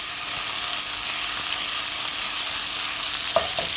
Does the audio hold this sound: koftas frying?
yes